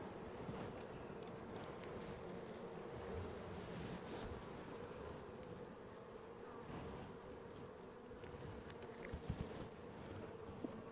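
Honeybees buzz in a dense, continuous drone at an open hive, a steady hum filling the clip with no voices.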